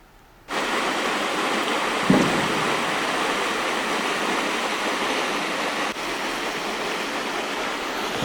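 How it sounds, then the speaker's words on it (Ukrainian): Steady broadband rush of a river flowing, close and continuous after a brief quiet start, with one soft knock partway through and no voices. "Річка така гарна, можна плавати."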